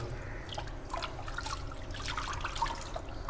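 Water poured over a kitten's fur during its first bath, giving soft trickling and splashing with scattered drips, fairly quiet and close, with no talk over it.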